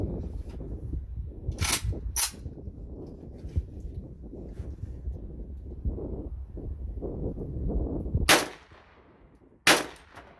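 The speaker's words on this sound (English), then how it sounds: "Okay, so the gun did fire." Two sharp, loud shots from a rusted AK rifle with missing parts, fired outdoors, each cracking out and decaying, with a quiet stretch of wind and handling noise between them.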